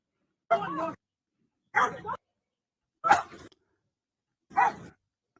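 A police dog barks at an arrest scene as a man surrenders with his hands up. Four loud, separate barks come roughly a second apart, with no voices over them.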